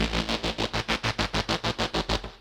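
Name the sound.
synth patch processed with Drum Buss plugin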